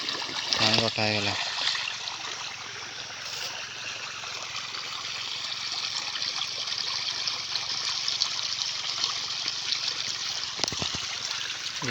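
Water pours steadily out of a tank, a continuous trickling and splashing stream that holds at an even level throughout, with brief bursts of other noise near the start and end.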